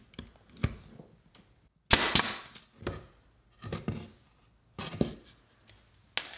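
Nail gun driving nails into thin wood pieces in a workshop, a series of sharp isolated cracks spaced a second or so apart, some doubled, with quiet gaps between shots.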